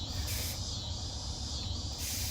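Steam hisses from a pressure cooker on quick release after cooking pasta with butter, salt and pepper, a steady close rushing hiss that swells in two brighter pulses, with no talk.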